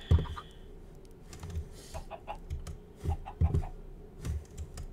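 A chicken in Minecraft clucks faintly a few times, mixed with sharp, scattered computer keyboard clicks in a quiet room.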